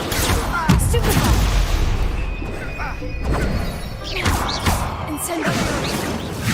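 Spells such as Stupefy cast repeatedly in Hogwarts Legacy battle, loud crashing bursts and impacts in rapid succession over a busy combat soundscape, with a voice shouting spell names.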